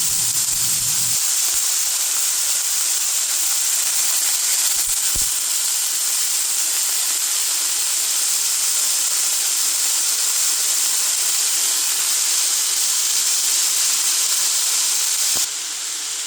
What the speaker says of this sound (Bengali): এখন এটাকে আমি প্যানটার মধ্যে দিয়ে ফ্রাই করে নেব